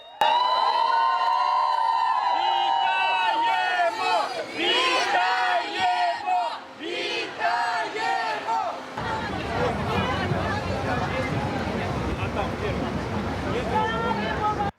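Crowd cheering and shouting as buses carrying freed Ukrainian prisoners of war arrive at a hospital after an exchange, with loud sustained voices and whoops throughout and a dense surge of noise in the latter half.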